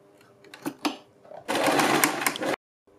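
Sewing machine stitching a straight seam on a kurti, with a few short taps and bursts of stitching followed by a loud, steady run of about a second, then a stop, recorded close up.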